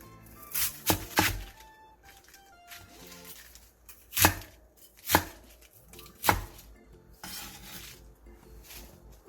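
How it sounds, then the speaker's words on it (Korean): Napa cabbage leaves being chopped into 3 cm pieces with a knife on a cutting board: a series of sharp, close chops in irregular bursts, with quiet pauses between them. "배추 10장을 3cm 정도 길이로 썰고 사이즈가 큰 잎부분은 세로로 반을 갈라준 뒤 잘라주세요"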